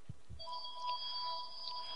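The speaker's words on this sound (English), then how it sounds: "I apologize for the phone ringing in the background." A telephone rings in the background of a lecture room, a steady electronic tone holding for a couple of seconds after a few soft knocks, with no talking over it.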